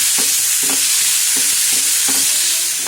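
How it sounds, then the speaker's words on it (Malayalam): Turmeric being stirred into a frying masala mixture in a pan for potato bonda, a steady loud sizzle with four or five rhythmic scraping strokes of the spoon. "നന്നായി ഇളക്കാം."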